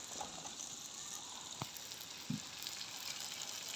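Peas and carrots fry in a pan for vegetable pulao with a soft, even sizzle close by, broken by a couple of brief clinks from a spoon or the pan.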